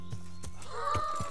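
A horse in the medieval game Kingdom Come: Deliverance gives a short neigh over hoof clip-clops, fairly quiet and close.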